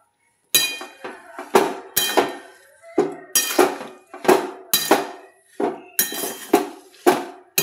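Spoon or ladle clanking against a metal pot or bowl while green chilli pickle is mixed with spices and amchur powder, a series of about a dozen sharp close metallic knocks in an irregular rhythm.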